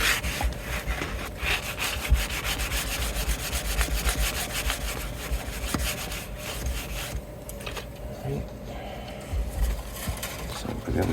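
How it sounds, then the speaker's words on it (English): A sanding sponge rubs back and forth along the bottom edge of a Dean bass guitar body, producing a steady, close rasping scrape in repeated strokes, with faint talking in the background. "Use these sanding sponges work great for doing this."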